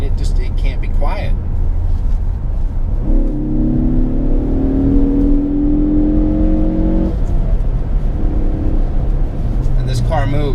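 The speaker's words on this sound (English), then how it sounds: "when you jump into a Ford Focus ST like this, it sounds great" A 2016 Ford Focus ST, a front-wheel-drive performance hatchback, revs up in a smooth, rising drone for several seconds, heard from inside the cabin, with brief voices before and after.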